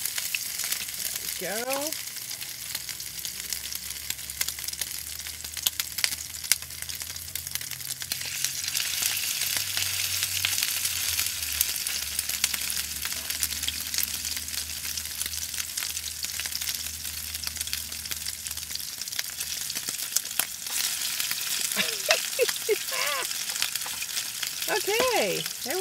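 Sardine patties sizzle and fry steadily in a pan, a continuous close crackle with brief talk at the start and end.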